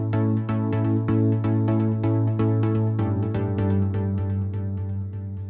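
Thick progressive house chords from a Spire synth in FL Studio, layered with reverb and dotted-eighth delay, pulsing rhythmically over a deep sustained bass and shifting harmony midway, steady and full with no voices.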